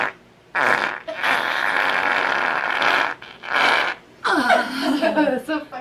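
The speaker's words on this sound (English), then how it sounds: "I need to fart" Several loud, drawn-out fart sounds from a young boy, each lasting about a second with short gaps between them, the last a wetter, sputtering burst; a voice is faintly mixed in.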